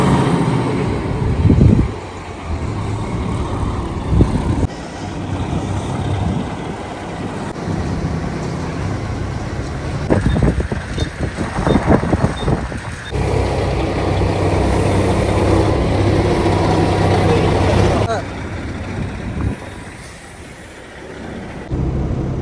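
A tanker truck in snowy, windy weather rumbles as it pulls away, with a steady low engine drone that rises and surges in the middle and continues under wind noise for the whole stretch.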